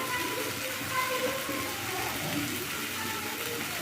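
Water pours into a katla fish curry in a pan, a soft, steady gush lasting a few seconds at low volume.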